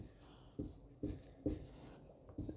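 Chalk or marker writing by hand on a board during a maths lecture on gradient, divergence and curl, heard as four soft, evenly spaced strokes in a quiet room.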